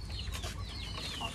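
Hens cluck and squabble as they fight, a brief, faint burst of agitated clucking heard at a distance.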